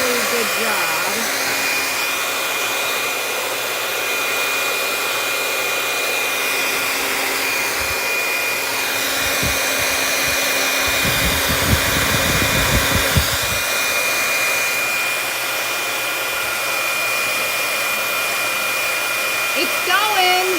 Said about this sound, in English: The hair dryer does a really good job.